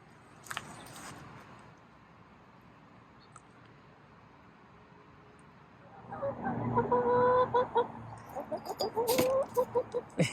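Chickens cluck and squawk near compost piles, quiet at first and then a busy, close run of repeated clucks and calls from several birds.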